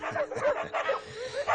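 A dog barks and yips in short, repeated bursts close by, with a higher whimpering edge to some calls, sounding agitated and lively throughout.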